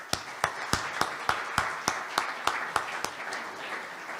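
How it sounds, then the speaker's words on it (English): Applause from an event audience, heard as a steady, evenly spaced series of sharp claps that fades slightly toward the end. "Please give them all a round of applause."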